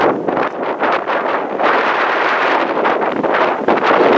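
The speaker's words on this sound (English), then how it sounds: "It's getting windy, so I don't know if you can hear me" Strong wind buffets the microphone in loud, gusty rushes, roaring steadily with rough bursts and no voices.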